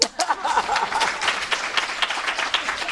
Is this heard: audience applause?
yes